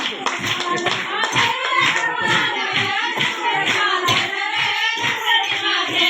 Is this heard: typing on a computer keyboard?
no